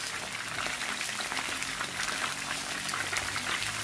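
Tenderloin beef frying in batches in a pan, a dense, even hiss of sizzling fat held close and steady throughout with no voices.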